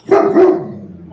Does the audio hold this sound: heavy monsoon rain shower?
no